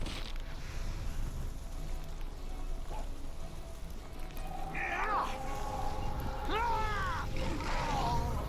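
A cat meows in the Neverwinter Nights video game, a few rising and falling wavering cries in the second half over a steady rain-like background hiss, with faint low talk.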